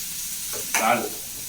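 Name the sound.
sizzling tempering of mustard seeds and curry leaves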